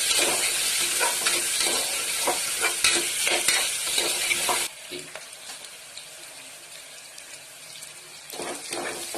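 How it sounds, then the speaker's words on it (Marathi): Chana dal with turmeric is stir-fried in a pan, with a loud continuous sizzle and rhythmic scraping strokes that drop to a quieter hiss midway before stirring picks up again near the end. "अर्धा चमचभर छोटा हळद घालायची आणि डाळ चांगली परतवून घ्यायची."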